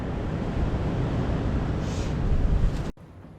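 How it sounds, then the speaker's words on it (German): Strong storm wind gusts during a weekend bicycle caravan trip, a loud, steady roaring rush that builds slightly before cutting off abruptly near the end, with no voices. "Also so einen Wind gab es noch nie,"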